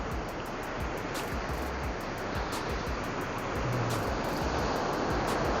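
Waves washing onto a beach on a cloudy, warm evening, a continuous broad roar of surf that grows slightly louder toward the end, with no voices.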